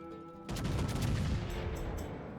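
Warship gunfire in World of Warships: a sudden boom of a salvo cuts in after a quiet moment, followed by rumbling and a few sharp distant cracks, fairly soft overall.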